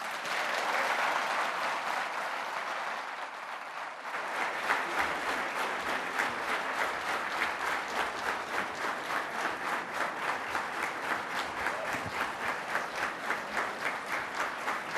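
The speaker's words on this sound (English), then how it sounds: "That is the loudest and the best applaud that we've got." A conference audience applauds after a keynote at a national project management event in India: loud, sustained clapping from a large crowd that swells after a few seconds into steady rhythmic clapping, with no talk over it.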